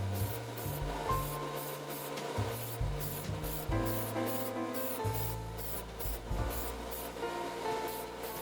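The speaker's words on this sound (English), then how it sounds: "I finally applied the primer to the bodywork. This time I opted for the Tamiya primer" Tamiya primer hisses from a spray can onto a metal scale-model body of a Lancia 037 in repeated short bursts. The bursts are close and soft, separated by brief pauses and light handling rustles.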